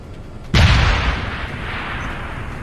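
A single frag grenade blast in the video game Deus Ex: Human Revolution, a sudden loud close boom with a long rumbling decay after a brief quiet moment.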